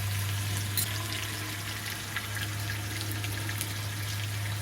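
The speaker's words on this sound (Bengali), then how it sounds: "তিন মিনিটের মতো একটু ভেজে নেব" Small diced potatoes, lightly salted, fry in oil in a kadai during village-style cooking, giving a steady broadband sizzle with a low constant hum underneath and no talking.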